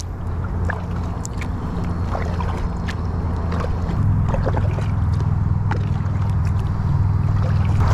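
A kayak paddled across water on a bass fishing trip, heard as a steady close wash of water and hull noise with a low rumble that thickens halfway through, no voices.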